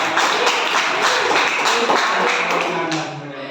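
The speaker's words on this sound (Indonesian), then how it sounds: "boleh tepuk tangan" A classroom group claps together in a dense, steady burst of applause for a few seconds, loud and close, then tapers slightly at the end.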